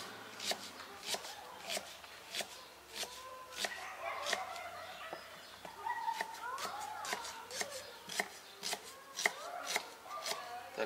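A knife chops onion on a board in repeated sharp, irregular strokes, close up, with brief pauses and some background noise outdoors.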